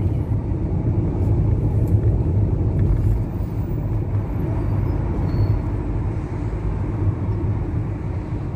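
Road traffic heard from inside a vehicle: a steady, continuous low rumble of engines and tyres, loud and unbroken throughout with no voices.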